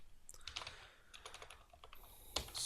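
Quick, close clicks of a computer keyboard as code is typed, coming in short irregular bursts with small gaps between them.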